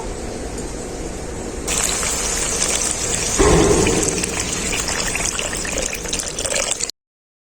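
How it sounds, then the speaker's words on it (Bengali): Water is poured into oily, well-fried masala for a fish curry, setting off a sudden loud hissing rush that swells further midway and holds steady until it cuts off. "এরপর আমি এর মধ্যে পরিমাণ মতো জল দিয়ে দেব"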